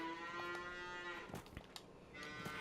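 Cows mooing in a barn pen in Farming Simulator 22: a long, tonal moo from a nearby animal, then a few soft clunks and thuds before another low moo begins, faint overall with no talk.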